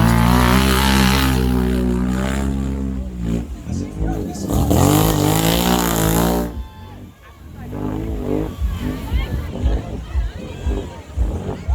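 A mud bog truck on nitrous launches off the start line at a 2019 mud bog in Marchand, its engine roaring loud and close, then fading and surging again with crowd noise behind it.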